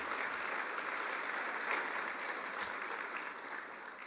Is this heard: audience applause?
yes